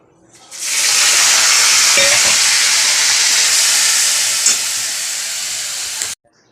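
Fish drops into a pan of hot oil with cumin, chili and bay leaf, setting off a loud, sudden sizzle that roars steadily for several seconds, then cuts off abruptly.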